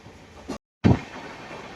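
Steady rumbling of a moving train on the Miraj route in India, briefly cut to silence, then returning with a louder clunk before settling back into a low roar.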